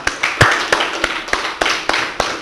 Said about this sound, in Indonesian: Mantap, tepuk tangan dulu lah